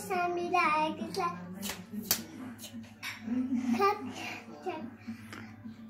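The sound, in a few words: children clapping hands along to a song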